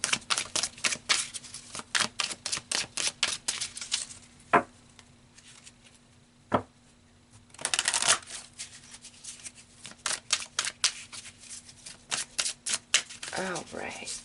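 Tarot cards are shuffled close to the microphone in repeated riffling bursts with short pauses between, while a person talks through much of it.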